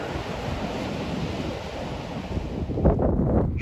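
Ocean waves at Hither Hills State Park near Montauk roll in with a steady wash, mixed with wind noise on the microphone, and a louder surge of surf builds near the end.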